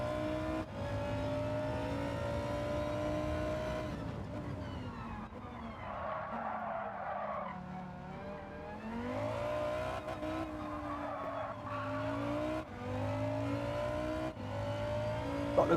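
Racing car in Gran Turismo 7 online lobby racing sliding off track into a barrier after a wheel goes off; steady loud engine drone with tyre skid and shifting revs throughout, no talk.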